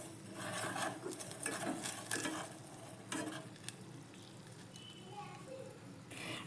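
Sugar melting into caramel in a pan gives a soft, fairly faint sizzle under brisk scraping stirs, the rasping strokes coming in short bursts through most of the clip.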